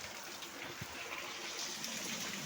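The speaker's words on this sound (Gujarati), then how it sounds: "આજ આખી રાઈટ ને દીનો વરસાદ ચાલુ છે જો તમને દેખાડ દઉં" Heavy rain pours down in a dense, continuous hiss, steady and close, with no voices.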